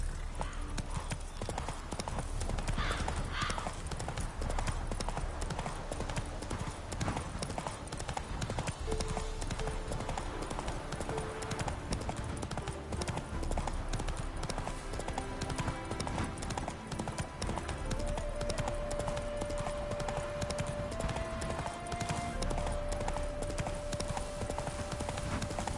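Horse hooves clip-clop steadily in The Witcher 3, a continuous rhythmic trot across the whole stretch, with faint game music tones rising beneath it.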